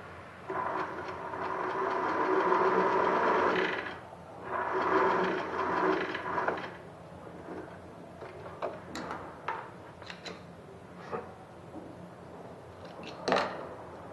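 A sewing machine stitches knit fabric for a shirt in two sustained whirring runs of a few seconds each, followed by scattered soft clicks and handling noises as the work is moved.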